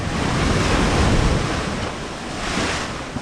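Surf and wind at Gray's Beach, Waikiki, Hawaii: a steady, loud broadband rush of waves washing ashore with gusty wind buffeting the microphone throughout, no voices.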